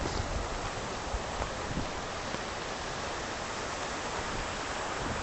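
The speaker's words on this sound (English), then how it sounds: "that's the footprint of the North Tower with the waterfalls here" Constant broadband roar of the North Tower footprint memorial waterfalls at Ground Zero on a very rainy day, a dense, steady wash of falling water with no breaks and no voices.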